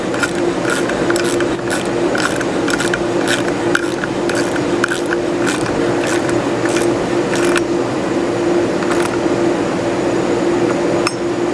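A barrel nut on an air rifle is tightened with a tool in a factory, giving repeated short metallic ratcheting clicks and scrapes over a steady mechanical hum, then a quieter stretch.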